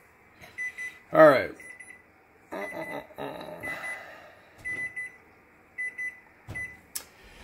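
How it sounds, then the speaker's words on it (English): A timer beeps in short, repeated bursts while someone changes the clutch pack on a Harley Sportster, with someone talking between and over the beeps. "Timer's going off there."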